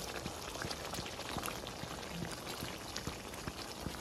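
A duck meat curry with potato and tomato boils in a pot, a steady bubbling hiss with frequent soft pops and plops throughout, with no talk.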